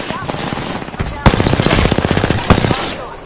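Rapid machine gun bursts in a video game, sharp repeated shots in dense rhythmic strings with a couple of louder cracks, close and loud over ambient battle noise, with voices in the background.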